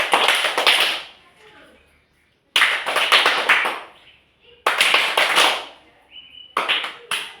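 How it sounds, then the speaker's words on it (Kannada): Schoolchildren perform the Pepsi clap pattern, three bursts of fast rhythmic claps and taps separated by short pauses, with children's voices chanting along. "ಓಕೆ. ಪೆಪ್ಸಿ ಚಪ್ಪಾಳೆ."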